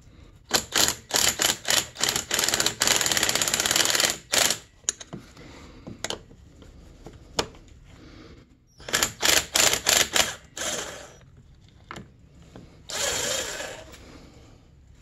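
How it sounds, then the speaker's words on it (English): A ratchet wrench removes a nut on a window track, giving fast bursts of close, crisp clicking in several runs separated by short pauses. "go ahead and pull that nut off of there"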